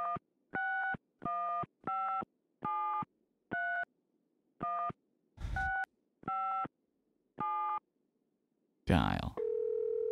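A telephone tone from the adventure game Gabriel Knight, 20th Anniversary edition, sounds as a clear series of about eight evenly spaced beeps, broken by two short bursts of noise near the end.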